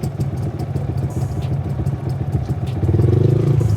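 A motorcycle engine runs steadily nearby with a low, throbbing idle that rises slightly in pitch toward the end.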